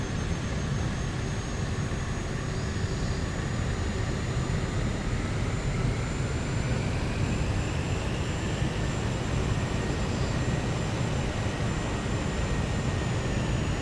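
Steady, loud drone of a Diamond DA40NG light aircraft's engine while taxiing, heard from inside the cabin, with a constant low rumble and a faint whine running through the whole stretch, no voices.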